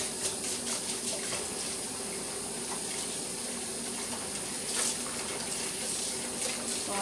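Hot water from a kitchen tap pours in a steady, continuous gush throughout, close by and fairly quiet, with no talk over it.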